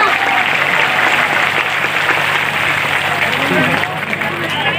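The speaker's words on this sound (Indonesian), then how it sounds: "Tepuk tangan dulu dong." Audience applause fills a religious gathering in a village in Lalan district, South Sumatra: sustained, dense clapping at steady volume from a large crowd, with a murmur of voices mixed in throughout.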